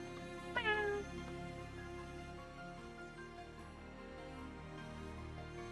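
A Minecraft cat gives one short, clear meow near the start, bending in pitch, over steady soft background tones that continue afterward.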